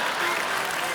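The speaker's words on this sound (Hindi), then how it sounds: "ठोको ताली" A studio audience at a comedy show claps in a brief, dense burst of many hands, heard at moderate level for about a second.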